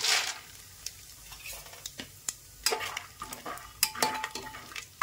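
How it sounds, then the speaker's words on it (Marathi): Peanuts fry in hot oil with mustard seeds and cumin for khichdi, giving a steady soft sizzle broken by sharp spoon scrapes and pops against the pan. "शेंगदाण्याला 2 मिनिटं फ्राय करून घेऊ आपण"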